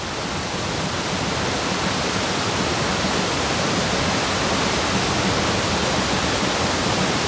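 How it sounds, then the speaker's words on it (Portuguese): Heavy rainwater rushing down gullies and streams off the high Cherrapunji plateau, a dense continuous roar of running water that stays loud and unbroken throughout. "Há chuva demais para a terra absorver, então ela desce por sulcos e riachos"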